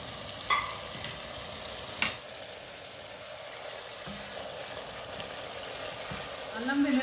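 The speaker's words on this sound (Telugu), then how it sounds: "అల్లం వెల్లుల్లిపాయని ఈ హోల్ స్పైసెస్ అన్నీ వేసేసాను కదా, ఇప్పుడు వీటిని బాగా వేయించుకుంటున్నాను." Whole spices frying with ginger and garlic in a pan for lamb biryani, a steady bright sizzle with occasional stirring scrapes and clinks, moderately close.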